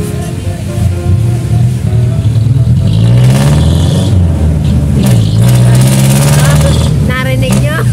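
An old-model jeep's engine revs hard close by, rising and falling in pitch with rough mechanical scraping as it accelerates, while people talk loudly over the noise.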